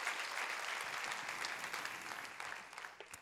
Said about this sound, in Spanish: Dale un aplauso bien fuerte al que vive